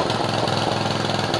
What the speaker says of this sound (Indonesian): menggunakan mesin traktor capung mini